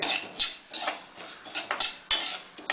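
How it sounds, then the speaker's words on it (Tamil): Gingelly sesame seeds dry-roasting in an oil-free pan, stirred constantly with dry scraping and rustling strokes and light metallic clinks against the pan, a steady close-up rhythm with no talking. "இதை நல்லா வறுக்கணும். தீயக்கூடாது, அதனால் பரட்டிகிட்டே இருக்கணும்."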